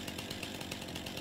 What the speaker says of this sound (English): Well, my chainsaw works,